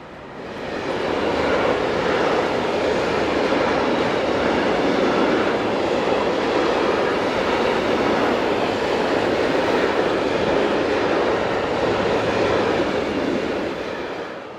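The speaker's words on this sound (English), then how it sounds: "head north with an unidentified intermodal service" An intermodal freight train passing on the Gotthard railway's south ramp in Switzerland, a steady loud rumble and roar of wagons that swells in, holds for the whole pass and eases off slightly at the end.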